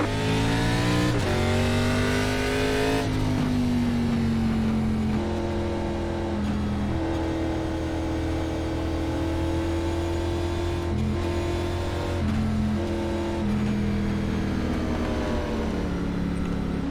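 ARCA stock race cars circle the track at Myrtle Beach, a loud continuous engine drone with several cars passing close by, pitch rising and falling as they accelerate and lift through the 17 seconds.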